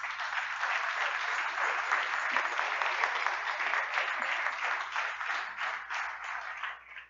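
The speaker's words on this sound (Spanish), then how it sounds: "¿Por qué no le damos un aplauso al Señor?" A church congregation gives a long round of applause to the Lord, dense even clapping at moderate level that holds for several seconds and then tapers off at the end.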